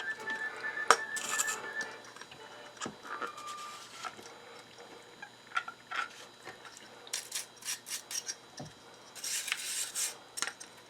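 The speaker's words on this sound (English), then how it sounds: "the brass bristles of the brass brush won't scrape the metal like steel would" A brass wire brush scrubs the metal parts of an old wooden hand-crank coffee grinder, making repeated short, bristly scraping strokes up close, with faint clinks between bursts.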